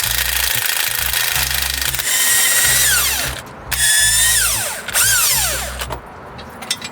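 Power tool or ratchet whirring in bursts while bolts are removed from a turbo EK Civic GSR hatchback, sharp pitch-shifting spins with short pauses between, close and loud.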